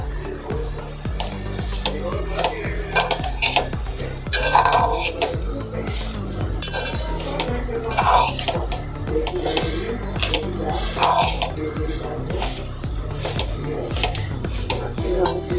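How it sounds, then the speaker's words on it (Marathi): Jaggery powder and mango juice being mixed in a pan, a spoon scraping and knocking against the metal in steady strokes, close and fairly loud, with a low hum running underneath. "मिक्स करून घेते मी आता."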